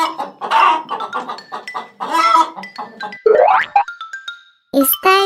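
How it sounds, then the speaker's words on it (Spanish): A hen clucks in a string of short, bright calls among cartoonish farm sound effects, with a springy boing-like sweep partway through, all close and loud with no talking. "¿Cómo hace la gallina?"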